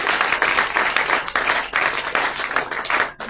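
A church conference crowd applauding and cheering continuously, a dense, steady wash of clapping that holds at full strength for a few seconds before dipping briefly near the end.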